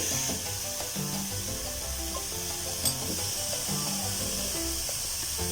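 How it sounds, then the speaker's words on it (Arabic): Breaded chicken cutlets sizzle on a hot grill pan in a loud, continuous hiss that holds steady throughout, with a brief sharp spit near the middle. "سامعين الطشه دي؟ هنشوي اول حاجه هنشوي البانيه"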